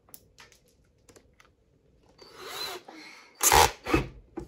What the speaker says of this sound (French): on va retirer le foret et mettre l'outil